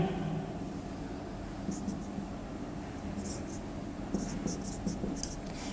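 Chalk or marker scratching on a board during a Class 12 physics lecture on electrostatics, several short bursts of writing strokes at moderate distance beneath a low room hum, with a teacher talking.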